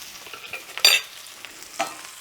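NY strip steak cooking in garlic thyme butter in a cast iron skillet, a soft sizzle with two brief louder splashes as butter is spooned over the meat, no talking.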